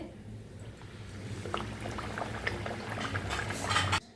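Jackfruit puris deep-fry in hot oil with a busy bubbling crackle that grows a little louder, then cuts off abruptly near the end. The sound is close and there is no talk.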